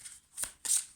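Oracle cards being shuffled by hand: two quick, close riffling bursts separated by a short pause.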